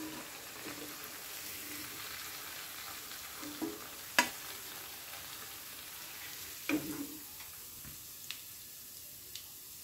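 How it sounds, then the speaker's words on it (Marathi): Vegetable kofta balls fry in hot oil with a soft, even sizzle and a few sharper pops now and then, heard up close and fairly quiet. "अशाच प्रकारे सर्व कोफ्ते आपण छान तळून घेणार आहोत."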